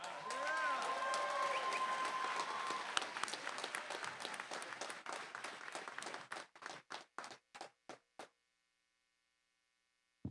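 An audience at a Garland ISD high school graduation ceremony applauds steadily, with a faint mains hum underneath. The clapping thins into a few scattered claps, then stops, and the clip ends in near silence.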